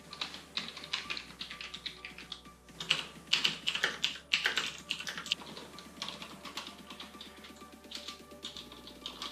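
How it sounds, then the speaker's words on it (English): Rapid typing on Corsair Strafe keyboards with Cherry MX Silent switches, two boards compared back to back, giving dense close clusters of soft key clicks and taps with short pauses between bursts. "I'm just going to type on these very quick, and you can try to listen to the difference between them."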